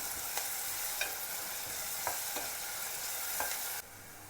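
Salted onions fry in a pan with a steady close sizzle, broken by a few light scrapes of stirring before the sound drops away near the end.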